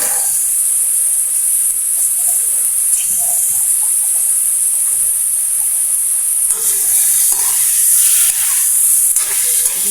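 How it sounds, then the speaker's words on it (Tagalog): Ingredients for chicken tinola sauté in a hot pan, producing a loud, continuous high hiss of sizzling close by that swells slightly near the end, with no voices. "Igigisa lang natin ito"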